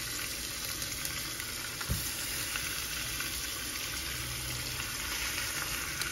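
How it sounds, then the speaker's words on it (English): Oxtail pieces sear in a hot pan with a loud, continuous sizzle and crackle, steady throughout with no talk. "Okay, let them sear until they're brown on one side."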